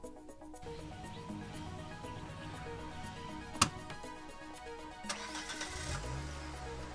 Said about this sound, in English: off they go for a drive through the vineyards of California